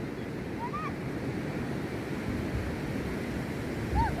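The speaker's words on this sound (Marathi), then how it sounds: "किमचा निसर्गरम्य असा समुद्रकिनारा" Steady wash of surf rolling onto Kihim beach near Alibag with wind noise, continuous and moderately loud, with a couple of faint bird calls above it.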